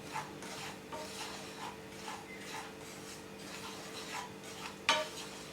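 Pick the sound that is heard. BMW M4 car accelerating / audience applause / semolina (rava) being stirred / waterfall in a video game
semolina (rava) being stirred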